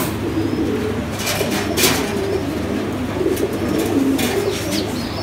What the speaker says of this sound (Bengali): এটাকে বলে কালদম কবুতর।